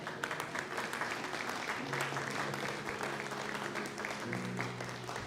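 A church congregation applauds and cheers the name of Jesus, dense clapping rolling steadily with scattered shouts and a few sustained voices mixed in.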